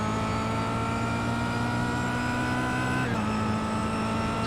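Kia Optima race car at Monza in the racing sim iRacing: a continuous, loud engine drone holding a steady pitch, then dropping slightly as the revs change, with no talk.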